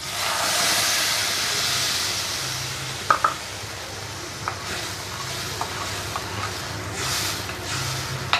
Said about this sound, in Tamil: இப்போ அரைச்சி வைக்கிற தக்காளியை ஊற்றுறேன்.